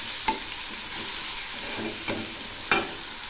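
Onion paste and tomato paste frying in oil in a pan make a steady sizzle, broken by three or four distinct stirring scrapes and knocks of the spoon.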